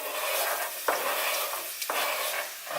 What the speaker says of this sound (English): I'm gonna put in my onions and green peppers first